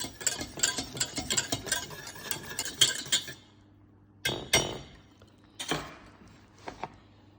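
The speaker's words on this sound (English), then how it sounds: "Give it a good whisk." A whisk clinks and rattles rapidly against a pot while fruit tart glaze made with arrowroot thickens, then slows to a few separate taps and scrapes.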